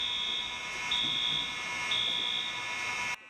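A false fire alarm in a university hall repeats three loud, high, electronic beeps evenly spaced about a second apart over a steady hum, then cuts off abruptly.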